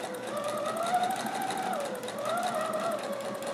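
A Brother PE 770 sewing machine stitches Hawaiian aloha shirt fabric, humming steadily and continuously at close range, its tone rising and falling slightly as the fabric is guided through.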